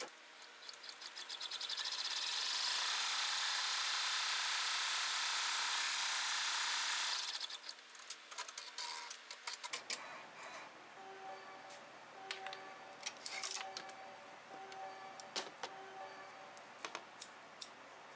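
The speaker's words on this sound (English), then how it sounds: "I place the hoop into the machine and sew out step 1 on the stabilizer." A home embroidery machine stitches a placement line through stabilizer held in a hoop. Its rapid, steady mechanical whir runs loud for several seconds, then gives way to quieter, intermittent clicking and motor hum.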